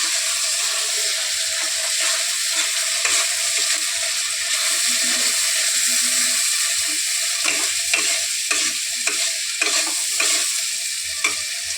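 Spice paste for a mutton curry being stir-fried with browned onions sizzles loudly and continuously, with repeated scraping stirs cutting through the steady frying hiss.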